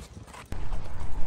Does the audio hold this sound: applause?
no